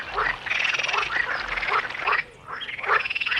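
A group of frogs croaks together in a cave, with repeated overlapping calls in short rhythmic bursts, fairly loud and close, and a brief dip in the chorus partway through.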